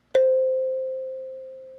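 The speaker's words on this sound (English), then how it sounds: "Kalimba." A single plucked kalimba note from the Native Instruments Crate Cuts sample collection, a bright metallic attack followed by a clean sustained tone that slowly fades, heard alone in silence.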